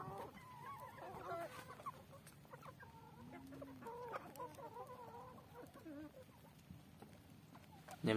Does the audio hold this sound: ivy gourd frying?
no